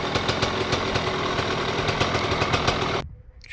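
A 2005 Husqvarna 125 CR motorcycle with a reinforced Newfren clutch runs close by with a rough, rapid, loud engine beat that cuts off abruptly near the end, leaving faint background noise.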